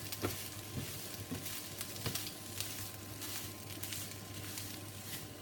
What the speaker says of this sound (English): now I'm going to add in my drained potato chunks. And stir that through a little bit.